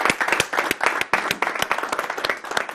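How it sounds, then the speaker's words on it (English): A small audience claps as a man is called to the front, a thin ripple of individual hand claps, uneven and close, that stays steady for a few seconds. "A ripple of applause as Steve comes up to the front"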